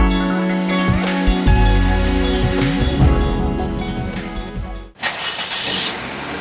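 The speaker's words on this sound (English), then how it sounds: "Accelerate the engine, get the wheels moving" Car engine cranks and starts, then revs with a rising roar before cutting off abruptly, followed by a broad hiss of traffic-like noise; loud and close, no talking.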